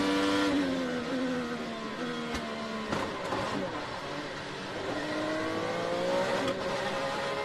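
Scott Dixon's IndyCar race car engine screams at high revs at the 2021 Chevrolet Detroit Grand Prix, heard on board, loud and continuous, its pitch rising and dropping through gear changes over a street circuit.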